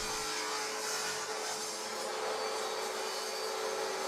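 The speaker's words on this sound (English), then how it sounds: "I ripped it on the table saw to" A table saw rips a scrap pine board to width, a loud, continuous broadband roar of blade and motor that holds steady throughout without pause.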